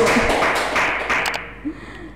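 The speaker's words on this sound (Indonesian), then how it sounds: "Jadi tepuk tangan dulu untuk Pak Wahyu." Audience applause for Pak Wahyu, a young teacher from MAN 2 Kebumen, at an E-Talk event: a dense burst of clapping that fades out over about two seconds.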